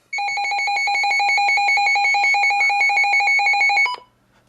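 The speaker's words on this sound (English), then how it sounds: "Those button beeps and that alert test, you cannot go wrong with that." A weather radio sounds its alert test tone: a loud, steady electronic tone with rapid pulsing overtones that runs unbroken for about four seconds, then cuts off sharply into silence.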